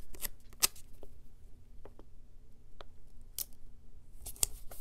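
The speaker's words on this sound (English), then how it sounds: "I'm just going to cut off one because I only need five" Scissors snip through a sheet of paper stickers in a quiet room, several sharp separate cuts at uneven intervals, close and crisp, with no talking.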